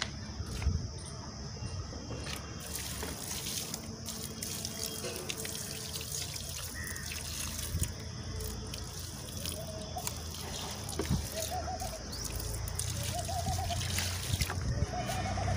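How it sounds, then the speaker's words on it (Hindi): Water trickles and splashes steadily as potted vegetable plants are watered on an outdoor rooftop, with crickets chirping continuously in the background. "तो हम इनको पानी देंगे।"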